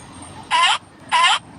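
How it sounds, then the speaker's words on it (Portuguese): A played recording of a seal calling: two short, loud, harsh barks about half a second apart, standing out clearly against a quiet background. "Agora vamos ouvir o da foca."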